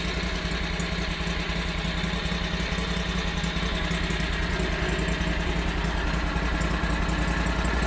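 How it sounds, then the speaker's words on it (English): The gas engine of a YFE 18 mini excavator idles steadily close by, a continuous low rumble with a buzzing mechanical hum and no voices. "this is a gas-powered engine. This is not diesel"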